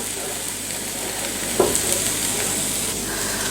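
A loud, continuous sizzle of onion dosa batter frying on a hot griddle, with one brief clink partway through.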